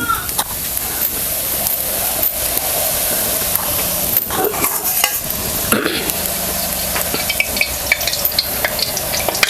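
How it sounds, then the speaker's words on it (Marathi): Kadakani snacks deep-frying one by one in hot oil give a loud, dense, bubbling sizzle with crackles and occasional spatula scrapes, continuous and close. "बघा असं एक एक एक एक तळून घेते"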